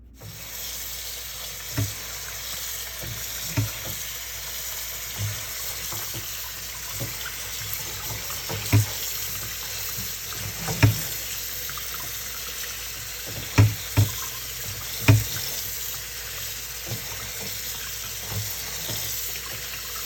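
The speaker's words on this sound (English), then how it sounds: "I have to wash it a little bit at a time because it's a lot." Tap water running steadily into a sink while taro (eddo) leaves are rinsed a batch at a time, with soft splashes and a few brief thumps and knocks as the leaves are handled.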